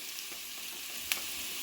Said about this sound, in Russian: когда лук немножко поджарится, мы добавим чеснок